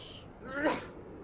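A single short sneeze bursts out mid-round from a player in a Broken Arrow multiplayer session, faint and close under the game's background sound.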